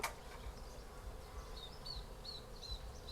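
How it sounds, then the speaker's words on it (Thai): A faint, steady buzzing of dwarf honey bees flying nearby, with soft whining hums drifting in and out over quiet outdoor background. "เสียงมิ้มบิน"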